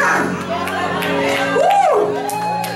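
A church congregation shouts and whoops in loud, continuous crowd noise, with a rising voiced whoop standing out briefly near the middle; any clapping is buried under the shouting.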